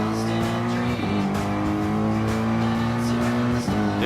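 A race car in the Gran Turismo Sport video game holds a loud, steady engine whine, with gear shifts audible as sharp pitch drops around one second and again near the end.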